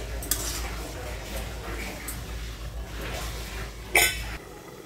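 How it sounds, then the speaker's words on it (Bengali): Egg bhuna curry with cumin powder gets stirred in a pan, a low simmering hiss under light scraping and a sharp metallic clink near the end, close and quiet, without talk. "এখন আমি একটু নেড়ে চেড়ে 5 মিনিটের জন্য ঢাকনা দিয়ে ঢেকে দেব"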